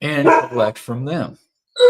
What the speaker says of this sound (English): I still got dogs going crazy